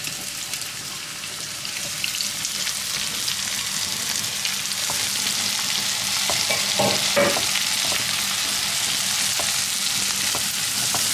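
Durian karuk ingredients fry in a pan with a dense, continuous sizzle, joined by scraping stirring strokes that grow busier toward the middle, all close and fairly loud with no talking.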